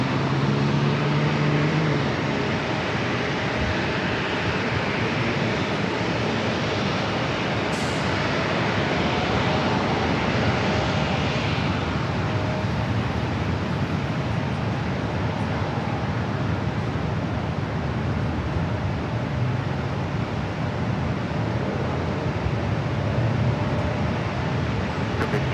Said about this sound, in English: Already clear for takeoff, heading back to London Heathrow.